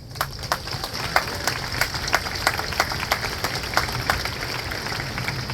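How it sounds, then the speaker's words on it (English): Outdoor rally crowd claps for a Free Palestine gathering, scattered individual hand claps ringing out irregularly over a low rumbling background, loose and uneven rather than a dense ovation. "So give yourself a round of applause."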